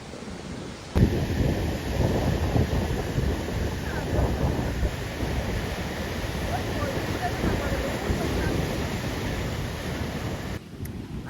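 Steady, loud roar of sea waves at Gangasagar breaking along the shore, blended with strong wind rushing across the microphone and continuing almost unbroken to the end.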